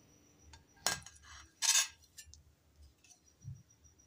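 A freshly fried cauliflower paratha is set down onto a plate, giving a quiet clatter with two brief clinks of utensil against dish in a hushed kitchen.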